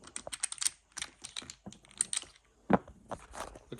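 Vintage Catalin backgammon checkers are handled and clicked together, giving a quick irregular run of sharp, close plastic clicks and taps over a few seconds.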